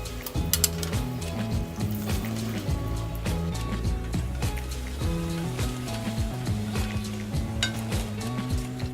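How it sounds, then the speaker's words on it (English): Tortillas sizzle and crackle in hot oil, a continuous dense frying sound with occasional pops and clinks of a utensil. "now we're gonna fry the tortillas"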